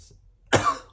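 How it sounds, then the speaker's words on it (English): A single sharp cough, close and fairly loud, bursts out after a brief quiet moment, with no talking. "I am still coughing."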